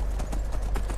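Galloping horse hooves in Skyrim on PS4 give quick, regular, heavy clip-clop beats, close and loud over a rumbling low background for about a second.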